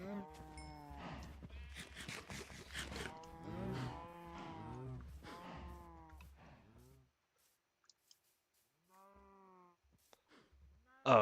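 Minecraft cows moo repeatedly, several long, drawn-out lows overlapping for the first seven seconds, then a quieter single moo after a pause, close and clear with no talk.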